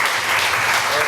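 Audience applause at a lecture's vote of thanks, a brief, loud, dense burst of clapping close and continuous throughout.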